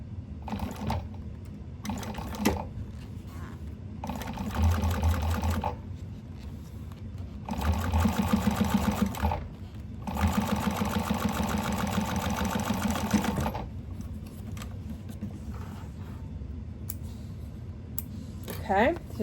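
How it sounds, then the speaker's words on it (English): A home sewing machine top stitches the wing section of a bag close to the fold, sounding in several short bursts of rapid whirring separated by pauses with handling noise. "I'm going to top stitch again right on the little wing part"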